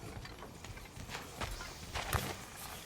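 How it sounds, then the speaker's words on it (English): Footsteps in God of War Ragnarök, faint, irregular crunching steps under a noisy ambient background, with one slightly sharper thump near the end. "Are those footsteps I hear?"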